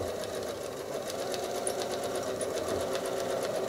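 A sewing machine runs steadily while stitching a spiral quilting design and filling in a small gap, a continuous close whirring hum with a fast mechanical patter and no breaks.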